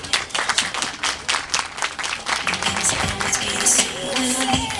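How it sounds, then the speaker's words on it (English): An audience at a Pakistani cultural performance event gives a sustained round of applause, with dense clapping from many hands and a few cheers mixed in throughout. "let us give them a huge round of applause"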